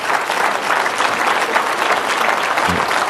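A large conference audience applauds continuously at a Cystic Fibrosis Foundation event, dense steady clapping from a full room that holds at an even level throughout.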